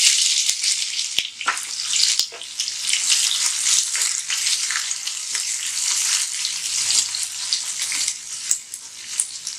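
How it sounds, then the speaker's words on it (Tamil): Onions sizzle in hot oil with a couple of cloves while the lamb kidney fry is started, making a loud, steady crackling hiss with scattered pops and faint stirring clicks. "இப்போ வந்து வெங்காயம் போட்டுக்கலாம்."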